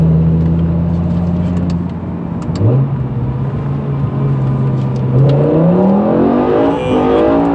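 A BMW M6 E63 engine revs hard and holds a steady high drone, dipping and then climbing again as the tires spin with traction control off, continuous and loud from inside the car with no talk.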